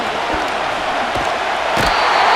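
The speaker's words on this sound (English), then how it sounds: "This crowd trying to be a factor, getting very loud now." A stadium crowd at a Madden NFL 25 game between the Atlanta Falcons and New England Patriots roars loudly and steadily, a dense wash of cheering with a few dull thumps underneath.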